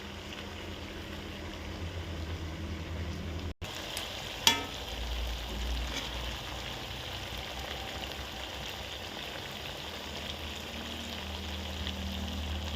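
Country chicken with spices frying in a pan makes a continuous close sizzle and crackle. A sharp knock is heard about a third of the way in, and the sizzling carries on steadily afterward.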